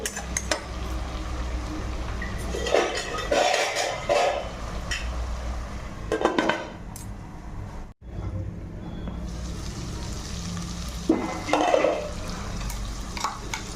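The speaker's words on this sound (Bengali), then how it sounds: "এবার ঢাকা দিয়ে মশলাটাকে কষে নেব" Spice masala frying in a covered pan for goat trotters, a steady close sizzle with occasional scrapes and clinks of a spoon against the pan, pausing briefly midway before carrying on.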